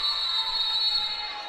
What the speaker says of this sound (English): And the whistle from the trailing official.